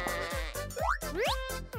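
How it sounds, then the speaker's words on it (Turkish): Sheep bleats sound in a children's craft setting: a few bright, wavering cries with sliding pitch, loud and close, set among springy boing-like cartoon effects. "Koyun."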